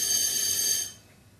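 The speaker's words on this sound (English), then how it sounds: "That's a fire alarm." A fire alarm rings indoors with a steady, shrill electronic tone for under a second, then cuts off abruptly, leaving a quiet room.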